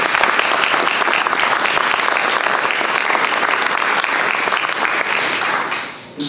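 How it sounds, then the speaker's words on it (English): Audience at a poet laureate announcement breaks into sustained, dense applause, loud and steady for several seconds before tapering off abruptly at the end. "If you would, put your hands together."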